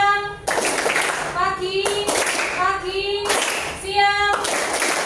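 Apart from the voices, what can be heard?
children clapping hands in a classroom clapping game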